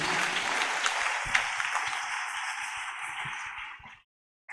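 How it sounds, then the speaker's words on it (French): A church seminar audience applauds after a Bible reading, steady dense clapping from many hands in a hall that thins out and cuts off, with a brief burst after a pause. "Est-ce qu'on peut acclamer cette parole également qui a été lue?"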